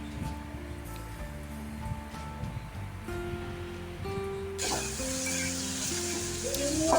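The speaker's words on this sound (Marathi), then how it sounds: "कांदा आपण व्यवस्थित छान चुरून घेतला आणि तो आता गरम तेलामध्ये थोडा थोडा करत घालतोय" Crushed onion dropped a little at a time into hot oil, a broad hiss of frying that jumps louder partway through and keeps building, heard alone over faint background music.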